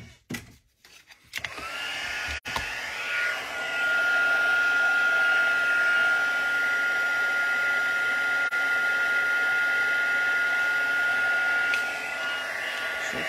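A heat tool melting embossing powder on a handmade card: after a few brief handling knocks, a loud steady blowing whir with a thin high tone starts and runs continuously to the end.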